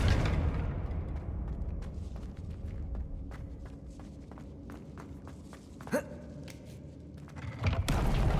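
A Confringo blasting curse explodes in Hogwarts Legacy, a short muffled burst rising above footsteps and ambient game noise, followed by another louder thump near the end.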